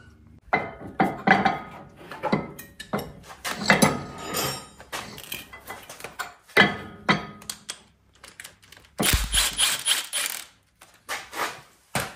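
The original 14mm caliper bolt comes off a Honda CR-V during a big brake kit install. It brings a close series of irregular metallic clinks, taps and clanks from tools and hardware.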